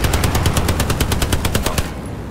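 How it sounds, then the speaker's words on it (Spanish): Automatic gunfire in Hell Let Loose, a World War II shooter, a rapid, evenly spaced burst of about fifteen loud close shots that stops abruptly, leaving quieter background rumble. "Me están disparando de atrás"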